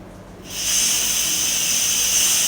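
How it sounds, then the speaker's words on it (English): A multi-cooker used as a pressure cooker for rice lets out its steam in a sudden, loud, sustained hiss that starts after a short quiet moment and keeps going steadily, with no talking. "I'm going to release the steam first before I open up the lid"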